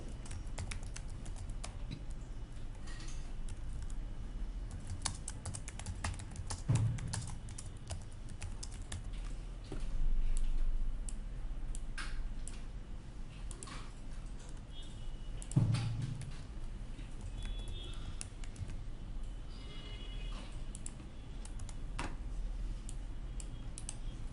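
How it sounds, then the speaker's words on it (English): Typing on a computer keyboard clicks along steadily at moderate volume, with a couple of heavier key strikes and a faint background hum. "Press enter and then click on save button."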